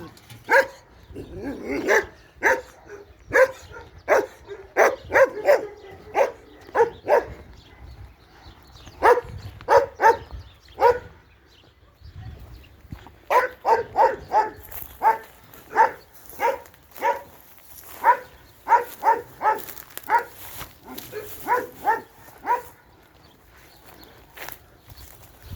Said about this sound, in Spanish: Y ahí tenemos un perro que nos viene a dar el saludo.